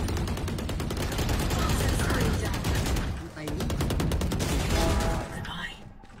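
Rapid automatic gunfire rattles continuously in a shooter video game, dense bursts with brief pauses, while a player talks over the shooting.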